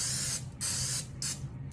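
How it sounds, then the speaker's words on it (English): Pam cooking spray is spritzed inside an air fryer basket in three close, loud hissing bursts, each roughly half a second, separated by short pauses over a low steady hum. "I usually spray the inside of mine with Pam spray."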